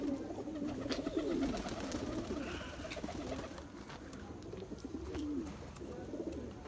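Pigeons of a Nagpuri breed coo in low, repeated rolling phrases close by, the calls overlapping and steady across the whole stretch with no talking.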